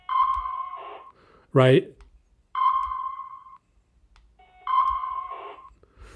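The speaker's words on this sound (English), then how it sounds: "there's a little radar tone that's made when a signal is detected" A RavenSDR radar alert tone sounds on an Android phone running an RTL-SDR receiver when a walkie-talkie signal is detected, three loud steady tonal beeps spaced evenly apart with a brief voice between the first two.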